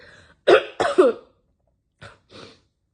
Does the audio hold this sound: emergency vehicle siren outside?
no